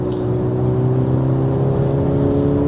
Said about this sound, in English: we are now on the Autobahn, so let's give it some throttle here